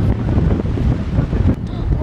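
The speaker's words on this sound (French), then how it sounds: "on a un vent établi de 30-35 km/h, hein, constant, ouest-sud-ouest, donc une bonne tramontane" Strong, steady west-southwest tramontane wind blowing at 30–35 km/h at a kite-flying site, roaring continuously and loudly across the microphone with no letup.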